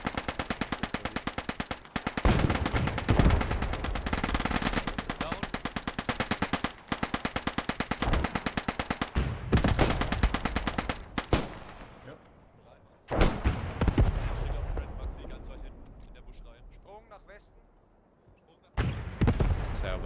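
A World War II firefight in the Post Scriptum game, an Operation Market Garden event with MP40 and Sten guns: long loud bursts of rapid automatic fire trade back and forth, broken by short pauses and scattered single shots.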